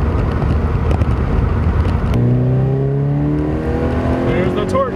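A Subaru BRZ engine pulls hard on a back road, a rough rumble turning into a clear rising tone as revs climb, with the driver talking over the engine noise.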